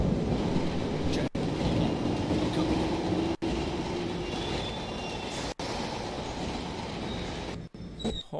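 A subway train in the video game Jonathan Kane: The Protector rumbles along loudly and continuously, with rail noise and faint wheel squeal, broken by a few brief dropouts.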